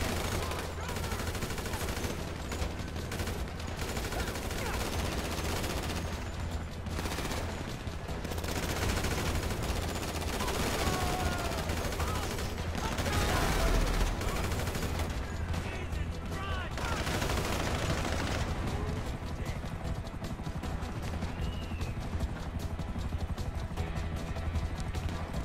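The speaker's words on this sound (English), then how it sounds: "Stop shooting, you're wasting your bullets." Dense, continuous gunfire in Grand Theft Auto V, bursts and rapid shots layered over each other at close to mid range, with a voice talking faintly beneath.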